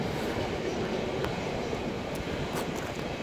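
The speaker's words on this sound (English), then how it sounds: "This is the sixth freight train I've seen today." A freight train rumbles past with a continuous low roar and occasional metallic clanks, moderately distant and steady throughout.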